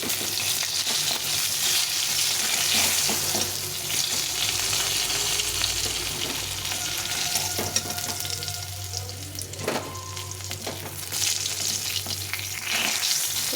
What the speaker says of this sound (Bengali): আলুগুলো খুব একটু কড়া করে ভেজে নিলাম